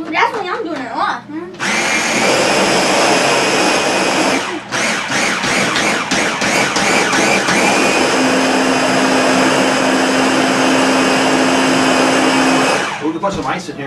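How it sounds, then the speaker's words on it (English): A blender crushes ice for a milkshake, roaring loud and close in a long continuous whine with a brief stop and grinding rattles as the ice breaks. Voices talk before it starts. "Blender mixes ice up."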